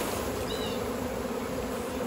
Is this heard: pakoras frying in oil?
no